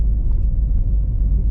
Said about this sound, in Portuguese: Uma volta na Renault Megane Scenic, numa volta ao passado.